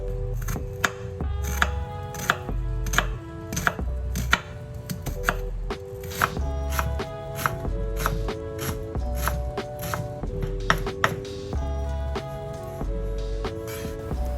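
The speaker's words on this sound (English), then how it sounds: "take 1 pretty red onion, cut it in half and chop it finely" Knife finely chopping half a red onion on a board, a steady run of crisp, close knocks in quick rhythmic bursts with brief pauses between them, heard alone with no talking.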